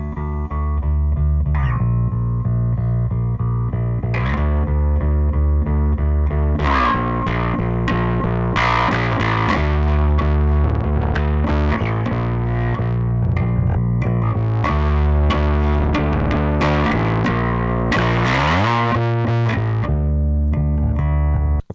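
Bass runs through a clean signal and a distorted copy blended together by panning, giving a continuous gritty, buzzing bass riff with busy picked notes throughout, played alone at a steady level.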